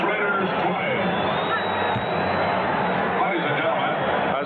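Stadium crowd of about 89,000 at the Los Angeles Coliseum after the Raiders lose to the Patriots in an NFL game, a low, steady murmur of distant crowd babble.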